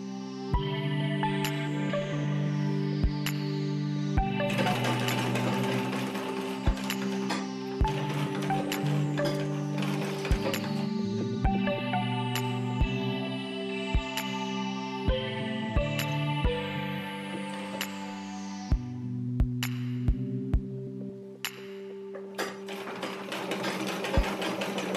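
A sewing machine stitches a side seam in fabric for a draped bow scrunchie, running in steady humming bursts with a mechanical whir and periodic clicks, close and alone, stopping and restarting several times.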